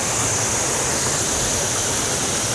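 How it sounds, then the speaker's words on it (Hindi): Water pouring down a small waterfall at a trout farm in Miandam, Pakistan: a steady, close, broadband rush with no pauses and no voices. "यहाँ पर नाज़रीन ऊपर से पानी आता है आबशार का।"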